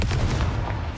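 Confringo blasting spell explosions in Hogwarts Legacy, a dense, continuous rumble of low booms and bursts filling the whole second at steady loudness, with no talk.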